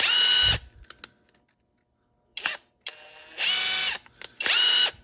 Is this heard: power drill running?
yes